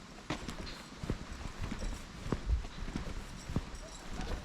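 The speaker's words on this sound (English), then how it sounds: "galloping horses today" Horse hooves clip-clop at a relaxed walking pace on an estate path, each clear, close footfall landing in a steady uneven rhythm over faint outdoor background noise.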